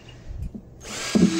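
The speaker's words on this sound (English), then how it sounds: "Okay, I'm going to drill 4 more down here." A power drill spins up and bites into a plastic bucket, a rising whine starting partway through the short moment with no one speaking.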